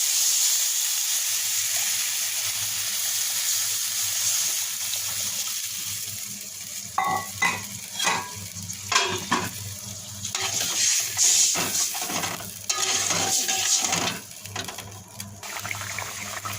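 Potatoes simmering in a pan after a little water is added: a soft steady hiss at first, then busier bubbling and sputtering with clinks and stirring knocks, close up.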